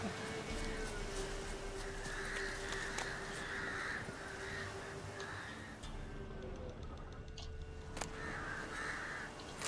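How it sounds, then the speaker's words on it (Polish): Crows caw repeatedly overhead in The Witcher 3: Wild Hunt, harsh calls recurring over a steady ambient drone and game music, with faint talk underneath. "Jakieś wrony tam latają na górze"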